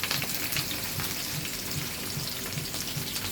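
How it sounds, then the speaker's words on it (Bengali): Onions, chilies and garlic sizzle in a pan with a steady, close frying hiss and crackle that runs the whole time, with soft pops scattered through it and no talk. "পেঁয়াজ মরিচ রসুন কাঁচা মরিচ এগুলো একটু হালকা ফ্রাই করে নেবো"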